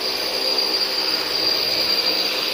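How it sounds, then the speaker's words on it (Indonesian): A power drill bores into a wall at a housing construction site, or tile is being cut, giving a steady, loud, high-pitched whine with a constant tone and no pauses. "Lagi ngebor temboknya deh atau nggak lagi motong keramik deh."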